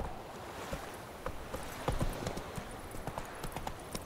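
Horse hooves gallop in The Witcher 3: Wild Hunt, a fast, close, continuous drumming over a broad rushing ambience, with a few louder strikes standing out.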